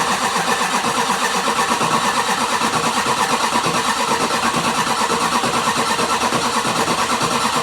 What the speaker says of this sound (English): I might as well see if this thing's gonna crank.